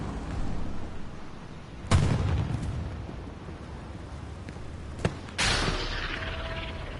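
Heavy explosive impacts from a tank battle in a video game: a loud boom near two seconds, a sharp crack around five seconds, then a sustained burst with rumbling, rattling debris, all without talk.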